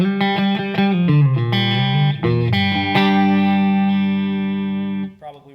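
A Doubleday Starling electric guitar plays on its middle pickup position through a clean amp with no effects, ringing chords and single notes that sustain with a bright, full tone before stopping abruptly.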